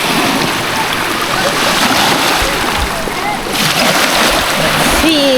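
Water splashes and churns close by as a hand stirs a cold, clear stream during a rainy picnic in Canada, a loud steady wash with a person speaking briefly over it.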